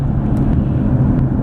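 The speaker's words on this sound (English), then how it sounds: "You hear minimal amount of road noise for a truck at least" Steady low road rumble and drone inside a 2014 Nissan Frontier SV 4x4 pickup truck while driving, a constant cabin hum with no talking.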